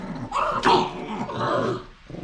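A dog growls and barks angrily at its food in Angeles City, Philippines, with a few close, loud bursts of rough snarling and yips spread over a couple of seconds.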